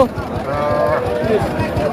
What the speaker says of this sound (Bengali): এখানে ছোট ছোট বাছুর আছে